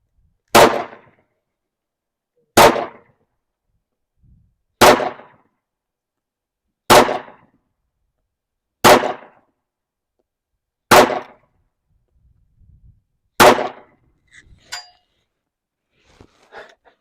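A CZ100 pistol firing 150-grain jacketed hollow-point handloads outdoors on a ranch: seven loud, sharp shots spaced about two seconds apart, each with a short ringing tail, followed by faint clinks.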